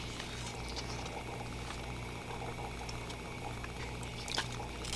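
Mangoes in sugar syrup boil in a pot, a steady, dense bubbling and seething that holds at an even level throughout, close and continuous, with a few faint clicks.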